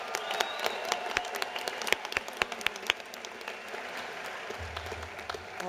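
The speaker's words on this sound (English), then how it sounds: "Can we please get a round of applause for our Master of Science graduates?" Scattered applause for Master of Science graduates at a university commencement ceremony, a crowd clapping with sharp individual claps standing out, fairly distant in a large space and tapering off.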